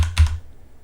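A short burst of a few quick keypresses on a computer keyboard while entering a number in an Excel spreadsheet, close and crisp, then quiet.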